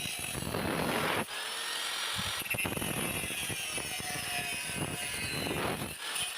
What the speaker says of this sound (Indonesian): Nah, jadi ini kita potong ya menggunakan gerinda.